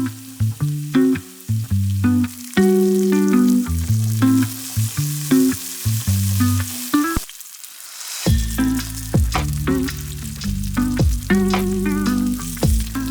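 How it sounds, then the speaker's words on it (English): Halved Brussels sprouts searing cut side down in a hot pan: a loud, close, crackling sizzle that drops away briefly midway, then surges back strong with scattered pops and stirring clatter. "Increase the heat and add the Brussels sprouts to the pan, cut side down"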